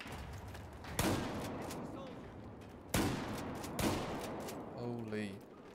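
Battlefield 4 combat on the Operation Locker map, with sharp gunshot cracks and a grenade explosion booming in bursts at loud, close range. A voice talks over the fighting.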